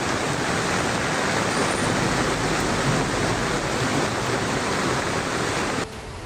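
Flash flood water rushing past near Jageshwar Dham temple after a cloudburst, a loud, steady roar of churning water without pause, dropping slightly in level at the very end.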